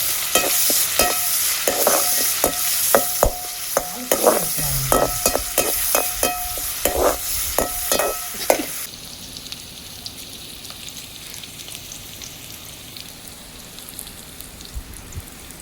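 Curry leaves and onion fry in a pan for a fish curry, with loud sizzling and a run of sharp utensil taps and stirring scrapes for about nine seconds, then a softer, steady sizzle alone.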